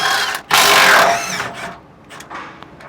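Lower 19 millimeter bumper bolts come off a truck in short mechanical ratcheting bursts, one long loud run followed by a few quicker, softer bursts nearby.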